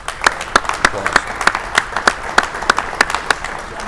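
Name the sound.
applause for charity fundraising total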